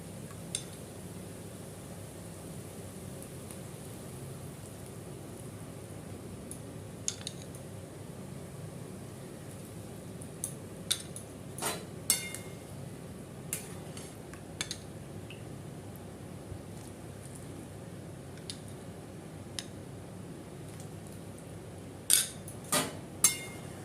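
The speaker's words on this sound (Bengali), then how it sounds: "আমি এবার 1 চামচ করে কর্নফ্লাওয়ার দিয়ে দেব।" A spoon clinks against a pot as spoonfuls of cornflour go into boiling water: sparse, faint metallic clicks, bunching up near the end, over a steady bubbling hiss.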